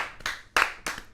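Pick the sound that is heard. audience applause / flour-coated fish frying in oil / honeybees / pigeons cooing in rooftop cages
audience applause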